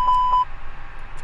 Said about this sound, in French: Ici il y a des boutons test, voilà qui sonne, vérifier qui sonne